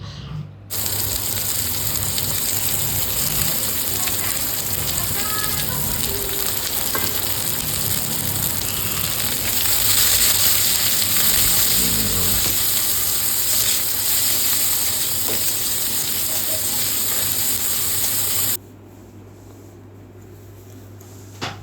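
Mustard seeds crackle and sizzle in a little white oil in a kadai, tempering for sambar masala bada. A loud, continuous frying hiss runs for about eighteen seconds, then cuts to a low background hum.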